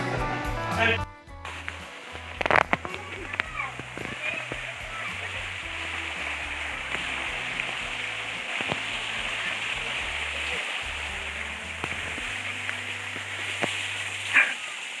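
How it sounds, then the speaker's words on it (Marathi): A small waterfall rushes and splashes continuously, a full steady roar of water, with occasional knocks and faint voices in the background. "आता मी तुम्हाला छोटासा धबधबा दाखवते"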